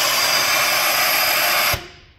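Steam hissing out of the buck of a Unity Press Model H pressing machine, a loud steady broadband rush for nearly two seconds that cuts off abruptly, leaving a short fading tail.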